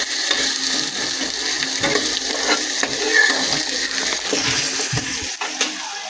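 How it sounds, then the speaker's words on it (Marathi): Onion, tomato and onion-garlic masala fry together on low heat, making a soft, uneven sizzle broken by light scraping and clinks of a spoon against the pan, with no talk. "आणि कांदा लसूण मसाला टाकायचा आणि चांगलं मिक्स करून याला तळून घ्यायचंय"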